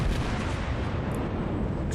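Fuso battleship guns fire a volley in World of Warships, a dense, roaring wall of booming blasts that stays loud and sustained for the whole moment, with no voices.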